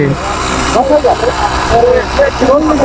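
A small petrol engine fitted to a converted bicycle idles with a steady low rumble beneath loud, close conversation.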